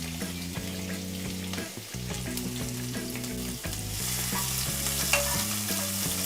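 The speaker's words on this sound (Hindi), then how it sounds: "अब इसमें हमने एक बड़े साइज़ का प्याज डालना है।" Finely chopped large onion sizzles in hot oil in a pan, a loud continuous frying hiss with repeated scraping and stirring strokes, no speech.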